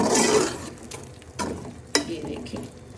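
Ingredients frying in a pan with chaat masala, moisture crackling as they are stirred, with soft sizzle and a few sharp scraping strokes of the spoon; no voices.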